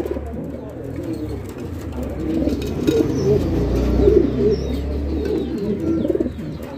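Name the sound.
imported pigeon pair cooing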